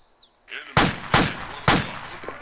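Three sharp, loud gunshots in quick succession from a tactical shooter video game, each cracking with a short echoing tail after a faint lead-in sound.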